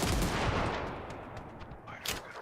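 A loud, close video game gunshot that booms and rumbles as it fades over about a second and a half, followed by a fainter, sharper shot near the end.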